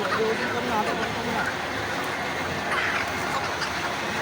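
A dense, noisy chorus of native-breed chickens and roosters clucking close by at a poultry market, under steady talk and general market commotion.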